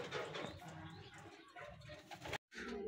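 Racing pigeons at a loft coo softly and repeatedly nearby, their low murmuring calls overlapping with faint rustling, then a short silent gap before the cooing resumes.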